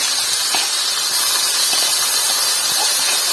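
Chicken and smashed onions sizzle in hot ghee in a pan, giving a loud, steady, close hiss with no talking.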